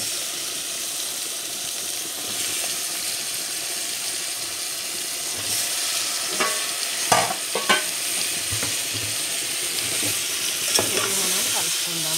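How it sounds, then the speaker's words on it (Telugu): Chicken sizzles steadily in a pan while being stirred for a country-chicken gravy curry, a constant close frying hiss broken by scraping and clattering strokes toward the end, with no talking. "నేను దీంట్లో వేసేసుకుంటున్నాను చికెన్."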